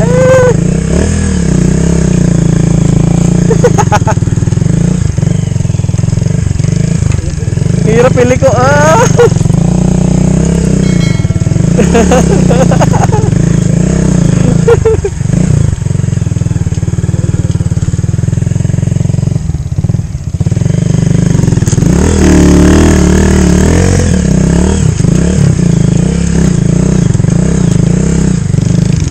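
Motorcycle engine revving hard and loud as the bike bogs down and sinks into soft ground at a nature park campsite in Quirino Province, with repeated surges and clatter, and a voice speaking briefly over it.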